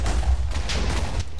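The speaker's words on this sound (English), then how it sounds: "We had so much TNT in your castle, man." Video game TNT detonation in a castle, a sustained rumbling blast with dense low booms and crackling bursts through the whole moment, loud and close with no talk.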